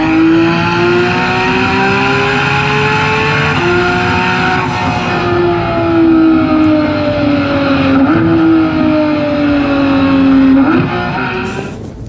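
A Porsche 911 GT3 of the 991 generation revs hard through several gear changes, its high-pitched flat-six wail climbing, dipping at each shift and climbing again, loud and close with no talk.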